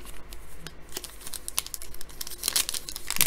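Crinkly rustling and papery flicking as 2019 Donruss baseball trading cards from retail rack packs and blaster boxes are flipped through quickly. Close and continuous, with a dense patter of card edges and no voices.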